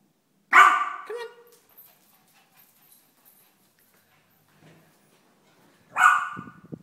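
A dog barks loudly once, falls quiet for several seconds, then barks again nearby.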